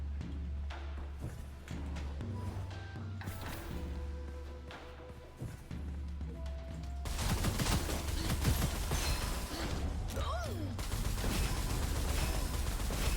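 Rapid gunfire and explosive blasts from grenade-heavy combat in the shooter game Gunfire Reborn, a dense, continuous barrage of shots that grows louder and thicker about halfway through.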